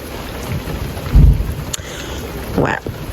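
Steady rain falls outdoors at a bungalow holiday park in the Netherlands, a constant hiss with a few low thumps and rumbles rising briefly above it.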